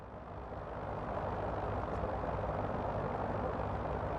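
Hiller UH-12B helicopter in Microsoft Flight Simulator, a steady droning engine and rotor roar at moderate level, continuous and even throughout with no voices.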